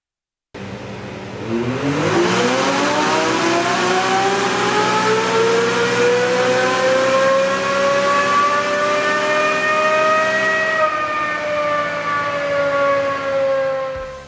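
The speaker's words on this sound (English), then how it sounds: "we have just wrapped up our tuned dyno runs on the Turbo RR" A Can-Am Maverick X3 Turbo RR side-by-side revs hard on a dyno, its engine note climbing steadily in pitch over several seconds, holding a loud high whine, then easing slightly before cutting off, close and alone.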